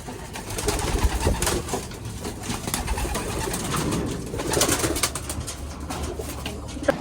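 Pigeons coo steadily in a loft, with checkered birds among the flock being handled before release; soft, overlapping coos run throughout alongside faint rustling and background noise.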